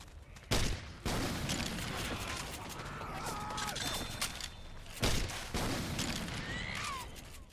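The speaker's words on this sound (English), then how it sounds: "It shoots one grenade at a time, and it has a really long reload time" Grenade launcher fire in Left 4 Dead 2, modded to resemble Splatoon's Rainmaker: two sharp loud shots spaced several seconds apart, each followed by a whooshing burst over a busy game background.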